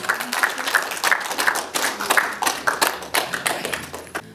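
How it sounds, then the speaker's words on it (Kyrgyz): An audience at a stage performance claps steadily, a fairly close, loud run of rhythmic hand claps that continues throughout without pause. "Кол чабуулар менен сахнага чакырып алабыз"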